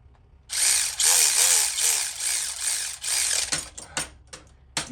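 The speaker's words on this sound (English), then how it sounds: "You can hurt yourself with this ratchet." A large, high-torque ratchet works on a Harley-Davidson Twin Cam 96 cam chest, giving a loud, close burst of fast clicking and whirring that runs for about three seconds and then breaks into a few short separate clicks.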